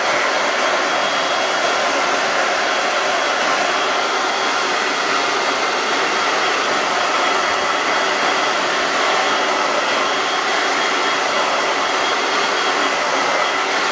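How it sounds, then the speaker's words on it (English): A blow dryer drying a small dog on a grooming table after a bath, a steady loud broadband whoosh of blowing air running continuously without pause, close to the listener, with no talking. "I have my blow dryer, and I will keep her close because I don't want her to run off."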